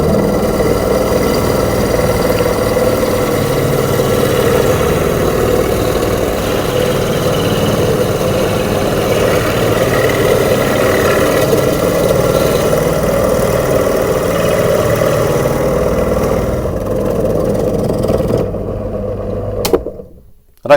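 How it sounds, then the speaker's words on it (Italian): A Parkside PTBM 400 A1 drill press running at about 1300 rpm while boring with a 35 mm Forstner bit, a loud steady motor drone with cutting noise that holds evenly, then cuts off near the end. "l'accendo e proviamo a fare un foro con questa punta Forstner da 35 mm"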